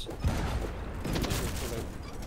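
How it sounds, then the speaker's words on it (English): Cannon fire from a ship in the pirate naval video game Blazing Sails, a dense rumbling burst of booms and crackle under constant game noise. "Fire blue cannon on the right."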